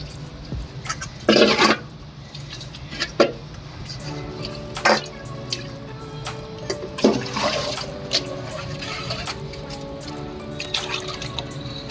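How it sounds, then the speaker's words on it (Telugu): Beef tripe washed clean by hand under running water, a steady splashing flow broken by several louder gushes and sloshes, with faint drips and clinks close by. "ఇప్పుడు దీన్ని ఇదంతా శుభ్రంగా కడుక్కోవాలండి"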